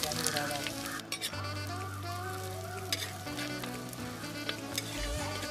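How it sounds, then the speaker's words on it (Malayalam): Onion frying in coconut oil in a clay pot after mustard seeds have popped, a soft continuous sizzle and crackle held fairly low under a steady background tone. "നമ്മുടെ സവോള ചേർത്ത് കൊടുക്കും."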